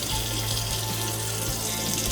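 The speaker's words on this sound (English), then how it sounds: "the water's coming out" Water runs steadily from a kitchen sink faucet in an old 124-year-old house under renovation, a continuous even hiss and splash with no talk.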